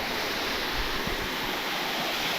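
Natural waterfall pouring over stone, a dense, steady roar of falling water heard alone with no speech over it.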